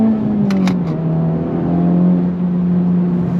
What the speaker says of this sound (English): Love the sound with that exhaust that John from LHT Performance put together